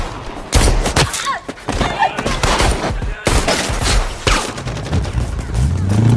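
Shootout gunfire from a gangster action film, with dense bursts of rapid shots and heavy thuds crowding the soundtrack for several seconds, loud and close, amid chaotic action noise.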